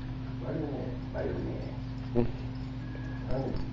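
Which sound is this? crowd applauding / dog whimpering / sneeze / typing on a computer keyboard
dog whimpering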